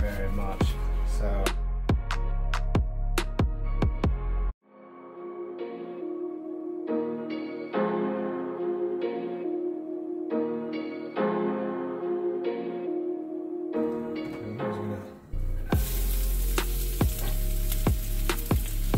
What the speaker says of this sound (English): Ah, the sound. I don't even like onions in that sound.